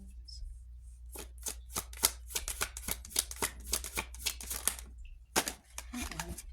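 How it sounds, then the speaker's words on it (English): Tarot cards are shuffled by hand in a series of sharp, crisp riffles and snaps, irregular and close, with a short pause before a final few flicks over a low background hum. "Cards are flying out here."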